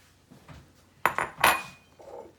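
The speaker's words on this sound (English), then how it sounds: "Then we'll take a couple of bowls." Kitchen bowls are picked up and set down while making homemade popcorn, a few sharp close clinks and knocks with a softer shuffle at the end.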